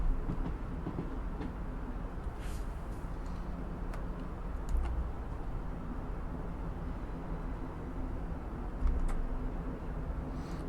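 A Class 150/1 diesel train runs steadily in the Train Sim World game, a continuous low engine drone and rolling rumble with occasional soft clicks and thumps from the track.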